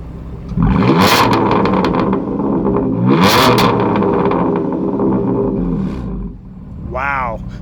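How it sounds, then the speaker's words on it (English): A BMW M4 GTS with a titanium exhaust revs loudly up close in two sharp bursts near the start and middle, then settles into a steady roar. Someone briefly speaks near the end. "Let's go ahead and head to the back and get a little rev time with Trish."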